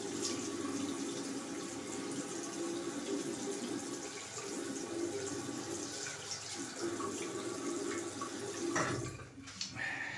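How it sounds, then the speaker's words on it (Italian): Warm water runs steadily from a tap to wet the face before a shave, a continuous close hiss and splash lasting most of the clip before it cuts off near the end. "andremo a bagnarci il viso con acqua calda"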